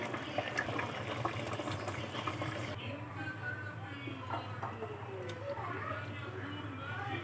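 Sambar with vegetables and mango simmers in a covered pot, giving a steady bubbling, hissing boil that runs throughout, with a voice speaking over it.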